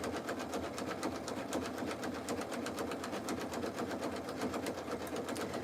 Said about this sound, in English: So the stitch length I'm using right now is at 7 and 5 on this machine, and I'm using the zigzag number 5.